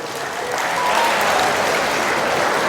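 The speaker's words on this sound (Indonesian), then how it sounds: "Tepuk tangan untuk kita semuanya." An audience applauds at a Halal Bihalal gathering, a close, even burst of many hands clapping that swells slightly and holds steady throughout.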